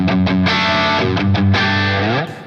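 Electric guitar played through a Dophix Michelangelo Overdrive pedal with the blend set in the middle, giving loud, thick, sustained overdriven chords struck a few times and ringing out before cutting off.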